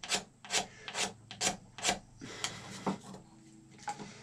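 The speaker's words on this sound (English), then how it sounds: "I'm holding the blade vertical to the horn and just pushing" A blade held vertical is pushed along a cow horn to scrape it while shaping a powder horn, giving a steady series of close, dry rasping strokes roughly every half second.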